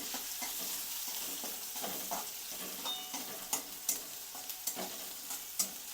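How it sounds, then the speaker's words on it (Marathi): Onion fries in a pan for stuffed okra, a continuous close sizzle with a run of sharp spatula scrapes and taps growing more frequent toward the end, no voices. "नंतर कांदा लाल होऊन द्यायचं"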